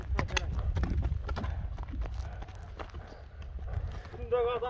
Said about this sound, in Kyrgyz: Күлүк ат экен, а?